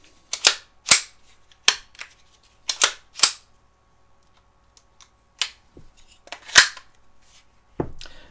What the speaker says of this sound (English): you can just insert the slide stop lever and we're home free to go